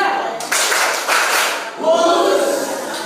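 A school class claps together in unison, several loud group claps arriving in separate bursts about half a second apart, each ringing briefly in the room.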